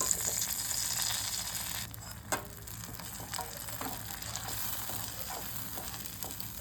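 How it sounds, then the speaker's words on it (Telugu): Tamarind pulp sizzles and spits steadily in hot oil, a low, continuous frying hiss with a few soft stirring knocks, heard alone without talk. "ఇప్పుడు మనం ఇదే ఆయిల్లో చింతపండు గుజ్జు వేసుకుందామండి"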